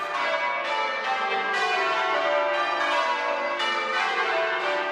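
Cathedral bells of St Davids, hung in the gatehouse, ring loud and clear in an overlapping rhythmic peal with a new strike roughly every second.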